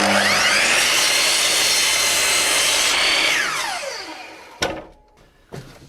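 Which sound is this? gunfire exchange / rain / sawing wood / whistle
sawing wood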